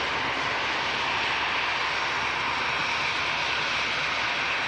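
An EasyJet jet airliner arriving from Amsterdam, its engines producing a loud, steady broadband roar that holds constant throughout with no voices over it.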